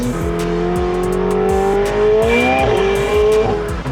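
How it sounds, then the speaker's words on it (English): Engine of a McLaren 750S supercar, a 750 hp model, roars under hard acceleration on a drive in Dubai, loud and close from inside the car, with the pitch climbing steadily and crackling bursts over the continuous drone. "I've never actually heard it that loud in the McLaren 720S. This 750S is like next level."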